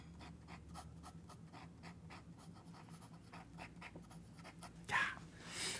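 A fountain pen with a Platinum nib scratches across paper in a quick run of short, faint strokes, close and dry, with a brief louder rustle near the end.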